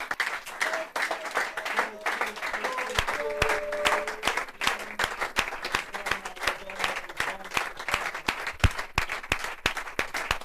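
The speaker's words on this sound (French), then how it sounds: "On acclame très fort pendant que la régie nous..." A church audience claps loudly and continuously, a dense crowd applause with some cheering under a voice talking over it.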